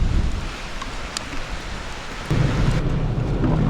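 Steady heavy rain from Tropical Storm Isaias pours down with a dense broadband hiss, growing louder partway through, with distant rumbles underneath; no voices.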